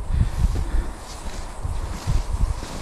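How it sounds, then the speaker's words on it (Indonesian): Strong wind on a misty mountain peak buffets and gusts in low, irregular bursts, rumbling close against the microphone with a soft airy hiss between the blasts. "dan suara angin itu kencang sekali"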